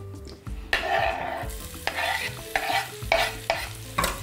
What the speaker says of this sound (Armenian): Եվ տապակում ենք սոխը։